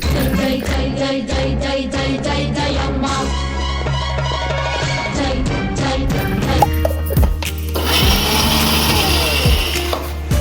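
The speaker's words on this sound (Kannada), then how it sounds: "ತುರ್ದಿ ಇರೋದು ಮಿಕ್ಸಿಗೆ ಹಾಕಿ" A kitchen mixer grinder whirs through grated coconut, a loud close motor drone with rattling pulses that shifts in pitch as it runs and stops.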